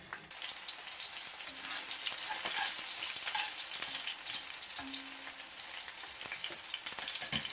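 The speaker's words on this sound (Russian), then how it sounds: "И пока одни котлеты жарятся, я формирую другие." Chopped chicken cutlets sizzle steadily in a hot pan, a continuous crackling fry with occasional soft scrapes and pops, close up with no talking.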